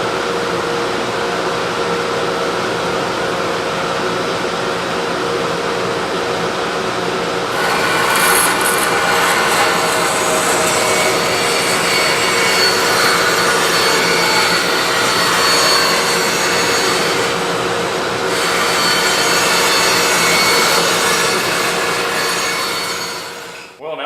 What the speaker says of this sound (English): Now I've installed a 1/2-inch blade on my bandsaw, and I think that will do the trick.